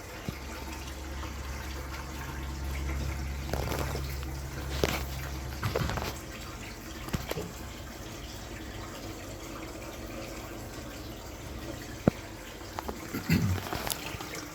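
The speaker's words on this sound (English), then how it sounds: "You can hear the water running" Water runs steadily into a tank during a leak test, a low continuous gush with occasional clunks and taps nearby.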